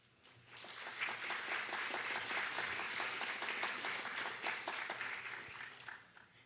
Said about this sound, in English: let's give them a round of applause for volunteering their time judging this competition